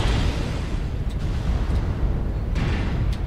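Mech weapons firing in an alpha strike in the video game MechWarrior Online, heard as a rumbling, booming blast that lingers in a heavy low roar, with a few faint sharper pops after it.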